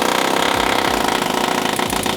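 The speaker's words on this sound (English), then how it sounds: "But another way you can do it is use power tools." A power tool punching metal in a car workshop during an engine swap drones loudly and continuously, with a rapid, steady hammering pulse close by and no talking.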